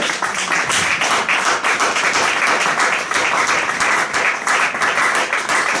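A church congregation applauds loudly and steadily, with dense clapping and cheering that fills the room without a break from start to finish.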